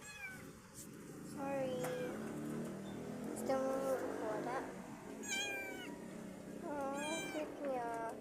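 A cat gives a string of repeated meows, some drawn out and some short, close to the microphone, while a person speaks softly over and between the calls.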